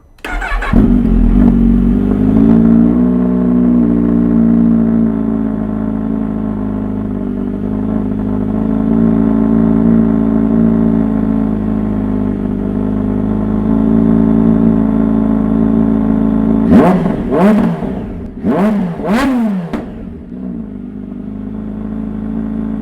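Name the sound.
Kawasaki H2 SX SE engine with Scorpion slip-on exhaust revving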